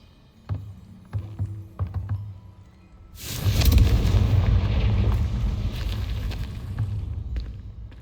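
Confringo fire spell in Hogwarts Legacy, with a few sharp clicks and thumps leading into a loud, sustained roaring explosion that slowly fades and rumbles on.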